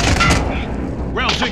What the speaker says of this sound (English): Designate an airstrike target. This is Striker 3-1, good copy. Strike inbound.